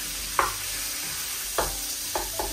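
Chopped chicken frying in oil for spring roll filling, giving a constant soft sizzle broken by a few sharp scraping stirs at uneven intervals, close by and without any voices.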